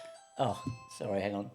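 Doorbell chime signalling a takeaway delivery at home, a brief tone under and between nearby speech, with a person talking close to the microphone.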